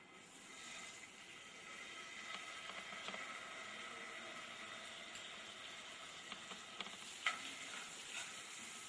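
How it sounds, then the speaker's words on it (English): Butter stirred into caramelized sugar in a pan gives a soft, steady sizzle with faint scrapes and stirring clicks, fairly quiet and close, no voices. "Blend the butter with the caramelized sugar properly"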